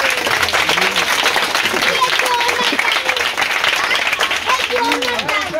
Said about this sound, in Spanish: un aplauso para que se anime.